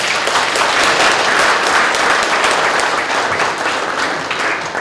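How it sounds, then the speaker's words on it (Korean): Audience applause for chairman Kim Yun-se at a year-end party, a dense, steady wash of clapping hands filling the whole stretch at full strength without a break. "김윤세 회장님 박수 한번 부탁드리겠습니다."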